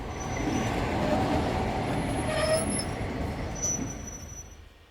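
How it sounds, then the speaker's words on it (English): A train sound effect in an audio drama: a train pulling in, with steady rolling rumble, faint wheel squeals and clatter, easing off toward the end. "it feels like that train's pulling in"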